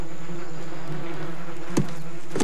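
Bumblebees buzzing in flight around a garden, a steady low droning hum with a couple of brief louder passes as a bee flies close by near the end.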